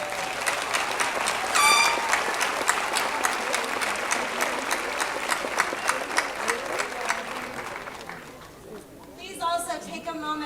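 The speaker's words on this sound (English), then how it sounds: "Please give yourselves a heartfelt," A graduation audience applauds warmly, dense sustained clapping filling the hall for about eight seconds before fading, with a voice speaking over the tail end.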